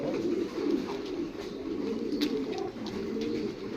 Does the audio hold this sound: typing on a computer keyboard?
no